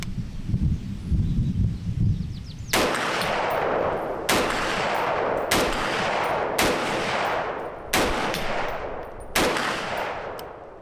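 A custom AR10 DMR rifle fires six loud, sharp shots at a slow, steady pace, each crack followed by a brief outdoor echo, after a quieter stretch of handling and rustling.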